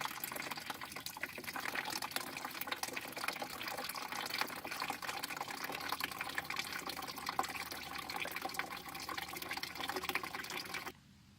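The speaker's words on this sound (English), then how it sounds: "Now we need to drain our radiator for the last time." Water drains out of a car radiator after a final flush, a steady close gushing and splashing that runs without a break and then stops abruptly.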